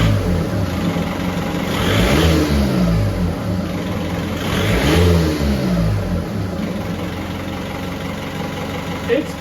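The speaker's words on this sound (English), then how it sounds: "Give it a rev." A TDI diesel engine swapped into a Jeep Wrangler, fitted with a new intercooler, revs up twice in quick bursts from idle, close and fairly loud, with a low rumbling drone between the rises.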